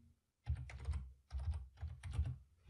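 Someone types on a computer keyboard in three quick bursts of close, crisp keystrokes separated by short pauses.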